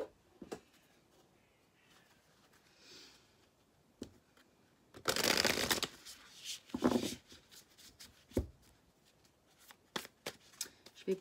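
Tarot cards are handled and shuffled close by: quiet rustles and taps, then a brief burst of riffling in the middle, followed by scattered soft card flicks.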